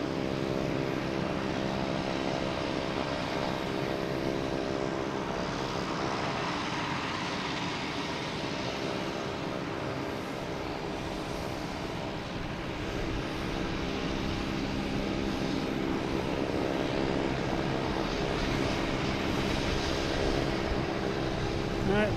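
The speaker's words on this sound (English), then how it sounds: "Propeller sound you hear is that Boutique Air warming up its engines." Boutique Air propeller plane warms up its engines at Boston Logan Airport, a steady, droning hum with a constant pitch that holds throughout, moderately distant, with someone speaking over it at times.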